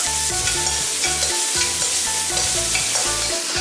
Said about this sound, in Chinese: 锅收干净，下1点点油，再把配料倒下去炒香